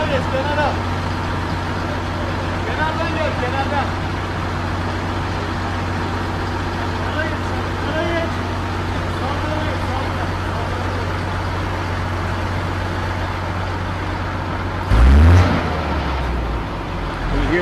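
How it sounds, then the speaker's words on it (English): A water cannon truck's motor drones steadily in a street protest in Turkey under crowd noise and voices, with a sudden loud rumbling surge near the end. "So it sounds like a motor starts spinning faster and faster"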